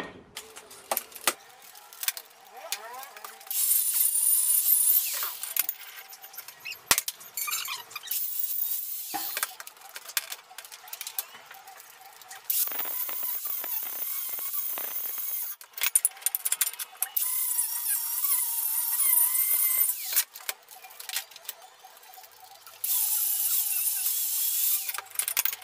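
A wire brush cleans welds on a steel profile, followed by flap disc grinding, heard as bursts of high, harsh power-tool whirring and scraping separated by quieter pauses, close and loud, without talk.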